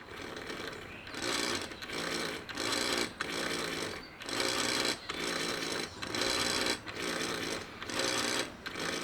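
A SmallRig wireless follow focus motor whirs in repeated bursts of roughly a second as it spins a lens focus ring, with loud grinding buzz and brief gaps between runs.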